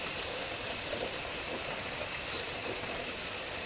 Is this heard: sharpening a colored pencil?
no